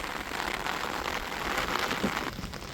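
Evening rain falling near a beach, a steady even hiss of drops with no voices, continuous and fairly loud throughout.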